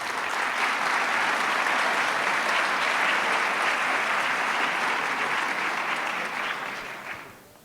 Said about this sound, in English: Let's give Allison a round of applause.